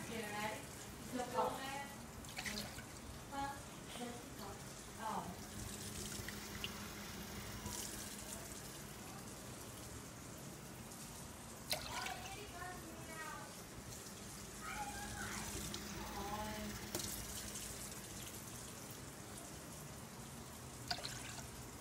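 Water runs steadily from a kitchen sink tap while Jell-O is being made, a continuous hiss with occasional clinks and splashes, under intermittent conversation nearby.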